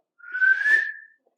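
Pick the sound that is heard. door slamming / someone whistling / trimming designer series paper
someone whistling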